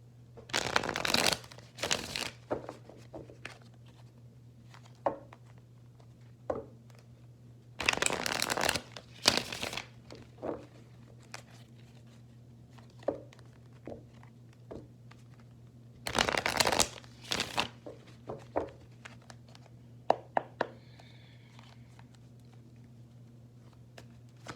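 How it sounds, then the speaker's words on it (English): Tarot cards riffled and shuffled in several quick bursts, separated by soft taps and handling noises, over a low steady hum in a quiet room. "I'm going to just shuffle a little bit more."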